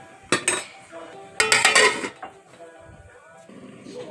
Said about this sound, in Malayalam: ഇനി ശരിക്കും തിളയ്ക്കാൻ നമുക്ക് ഒരു 15 മിനിറ്റത്തേക്ക് മൂടി വയ്ക്കാം.